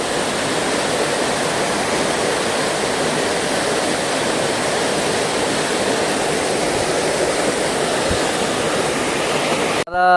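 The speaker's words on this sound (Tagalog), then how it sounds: "At ito yung bagsakan ng tubig oh." A waterfall in Palawan roars steadily and loudly, a dense unbroken rush of falling water close by, with no speech over it.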